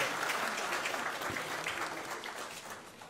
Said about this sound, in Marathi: आपल्या सर्वांसाठी एकदा जोरदार टाळ्या होऊ द्यात